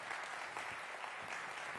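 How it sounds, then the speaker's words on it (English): Audience applause following a chemistry demonstration at a colloquium, a steady, even wash of clapping from a seated crowd, fairly faint and continuous throughout. "So let's give Rolf a round of applause for that."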